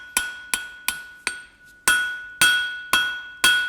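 A blacksmith's hammer strikes hot steel on an anvil while forging the point of a set eye hook, eight sharp ringing blows in a steady rhythm with a brief pause midway, each clang decaying slowly.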